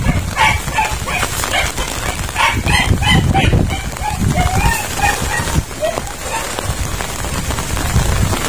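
Backyard chickens and a rooster clucking and crowing through steady rain falling on surfaces, the bird calls repeated and mid-distance amid the downpour, with a voice speaking now and then.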